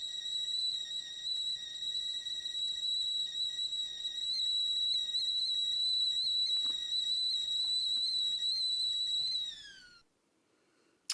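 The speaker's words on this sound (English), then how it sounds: "you will hear the whistle here, a tea kettle whistle at the end" A tea kettle's high, steady whistle shrieks for about ten seconds, then cuts off, leaving near silence broken by one sharp click.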